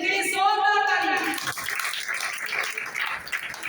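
At a Sunday church service, a voice speaks briefly, then the congregation breaks into applause, a steady, dense wash of clapping that continues to the end.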